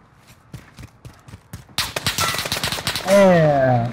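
Gunfire in Call of Duty: Modern Warfare 2, with sparse sharp shots early and then dense rapid automatic bursts that grow louder and closer, under a speaking voice.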